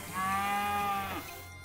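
A cow moos once in the video game West of Loathing, a single sustained, loud, harmonically rich call about a second long with a falling tail and no talk over it.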